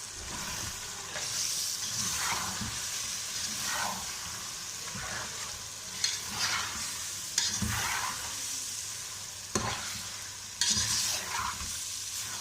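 Tomatoes and green chilies fry in a pot for biryani, a steady broad sizzle with repeated scraping stir strokes roughly every second or two and a few sharper clinks of the spoon against the pot, close and fairly quiet.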